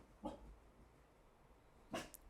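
Two short, faint dog barks spaced well apart, heard at a distance over a quiet indoor background.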